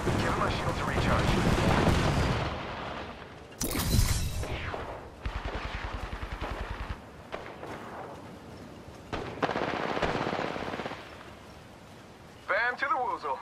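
Gunfire and heavy blasts in Apex Legends, bursts of shots and booming impacts mixed with game effects, with a rapid stretch of fire midway and voices talking over parts of the action.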